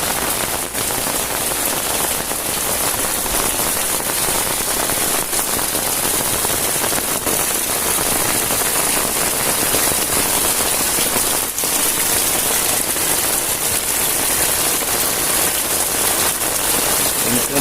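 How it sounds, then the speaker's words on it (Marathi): Steady, dense night rain in Ratnagiri patters on surfaces and water without pause, a continuous hiss with scattered heavier drops throughout. "तिथून पण पाऊस पाणी पडते खूप"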